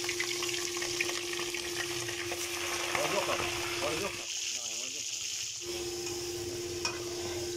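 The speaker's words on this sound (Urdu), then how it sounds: "فرائی ہونے کے لیے چکن ڈالتے ہیں" Chicken fries in ghee in a karahi for Peshawari chicken karahi, a loud continuous sizzle and hiss with stirring, while a voice speaks briefly over it.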